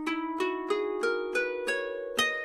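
Seven plucked lyre notes ring out one after another in the ancient Greek Dorian mode, each with a bright attack and a short sustain, played close and fairly quietly at a steady pace.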